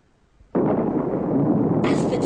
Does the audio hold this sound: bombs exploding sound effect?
yes